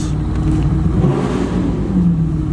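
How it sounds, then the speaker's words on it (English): A red Ferrari 458 engine revs hard as it pulls away in first gear from a red-light stop, heard from behind as a loud, sustained low roar that rises and falls across the whole stretch with no talking. "You can hear the 458 behind."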